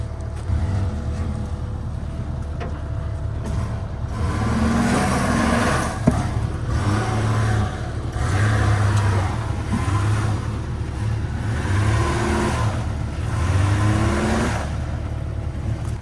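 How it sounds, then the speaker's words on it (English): A Ranger utility vehicle's engine revs and labors as it backs out of muddy woods, surging repeatedly in uneven pulses, close and loud throughout. "and get the Ranger out of the woods first. This could get interesting because I have to actually back it up out of here."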